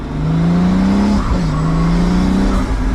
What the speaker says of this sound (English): is that roof scoop noise right behind your head